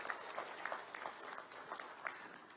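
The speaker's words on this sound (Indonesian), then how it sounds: "Boleh juga tepuk tangan buat kita semua." Applause from an audience at a 2020 virtual graduation ceremony, a sustained wash of clapping with scattered distinct claps, moderately faint and slightly distant, with no voices over it.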